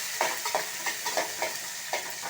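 Onions sautéing for sambar in a hot pan, a steady sizzle broken by regular stirring scrapes about every third of a second, close and fairly loud with no talking.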